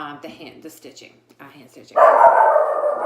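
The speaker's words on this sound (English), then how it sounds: "I'm sorry about the dog." A dog barks loudly and continuously nearby, breaking in over a person talking quietly about hand-stitched chapbooks.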